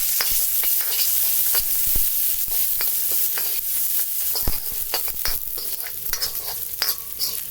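Sliced dried chillies fry in a small amount of soybean oil for a hot and sour soup, a close, constant hiss of sizzling oil with scattered sharp crackles and spatters throughout.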